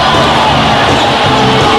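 A basketball crowd at a PBA Ginebra vs Purefoods game roars in delight at a jump shot, a loud, dense wall of cheering that holds steady throughout with no gaps.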